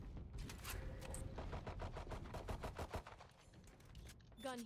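Gunfire in the video game Valorant: a rapid, evenly spaced burst of automatic shots that runs for several seconds, then pauses before a short final flurry.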